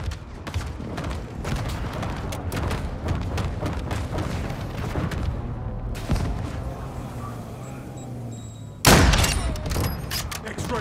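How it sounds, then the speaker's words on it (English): Cruise missile strike explosions in Call of Duty: Modern Warfare II: rumbling booms and crackling fusillade-like blasts, with a sudden loud impact late in the clip over continuous battle noise. "Friendly cruise missile approaching target."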